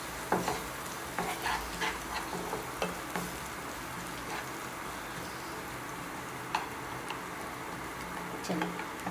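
Chopped onions fry in a pan for an egg roll, a soft continuous sizzle with scattered scraping stirs and light clicks of a utensil, steady and close.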